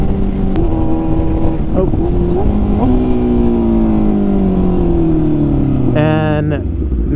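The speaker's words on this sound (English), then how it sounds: "it's definitely a first ride on an S1000 that has 200 horsepower" A 200-horsepower BMW S1000 motorcycle accelerates, its engine note climbing and then sliding down through gear changes, loud and close under a continuous rushing background, with a brief voice exclamation near the end.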